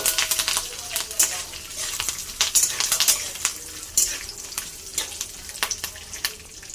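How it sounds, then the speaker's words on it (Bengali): Peanuts, coconut and curry leaves fry in a hot pan with a steady crackling sizzle, punctuated by repeated scraping and clinking of a spatula as everything is stirred. "বাদাম নারকেল ভাজা হয়ে গেছে।"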